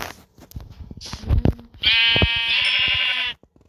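Sheep bleating in a Minecraft-style crafting video game: one long, loud, harmonic bleat of about a second and a half, following scattered soft clicks and thuds.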